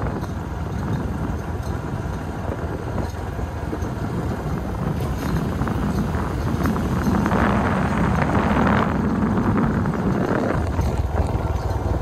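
A boat's engine drones steadily over water and wind buffeting on a lake in Malawi, growing slightly louder toward the middle, with no clear voices.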